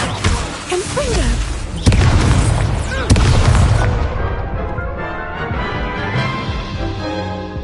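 A Confringo fire-blast spell cast in the wizarding game Hogwarts Legacy makes loud booming explosive bursts, with two sharp hits amid a dense rumbling roar that then fades into a softer tail.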